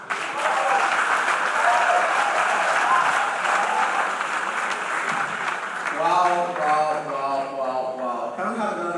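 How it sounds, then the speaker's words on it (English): An audience at a conference plenary session applauds a panel with steady, dense clapping, while a voice speaks over it in the second half. "Can we have another round of applause for this awesome panel?"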